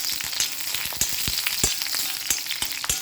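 Curry leaves and dried red chillies fry in hot oil for a bitter gourd pachadi, giving a loud, steady, close sizzle dotted with sharp crackles and pops. No one speaks.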